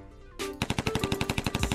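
Machine gun fire in a shooting video game: a rapid, loud burst of evenly spaced shots after a short click, steady and close.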